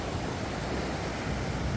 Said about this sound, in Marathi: लाटा बघा किती मस्त आहे इकडचं वातावरण